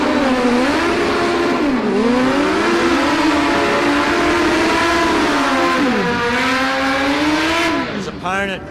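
Supercharged Suzuki drag bikes race at a street drag meet, among them a 1340 cc B-King and a big-tired 1428 cc Katana: loud engines wail and rise through gear changes, then one ends in a sharp burst, with a voice heard over them.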